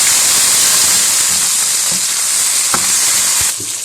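Tomatoes and green chilies hit ginger garlic paste browning in a hot pan, setting off a loud, continuous close sizzle and hiss, with a few soft stirring knocks near the end.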